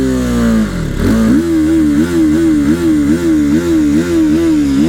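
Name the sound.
TVS Apache RTR 310 motorcycle exhaust revving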